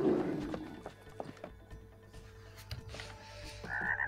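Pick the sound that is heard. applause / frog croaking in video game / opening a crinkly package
frog croaking in video game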